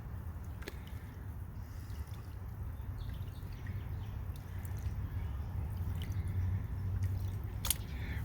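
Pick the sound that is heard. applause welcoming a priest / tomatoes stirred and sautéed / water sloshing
water sloshing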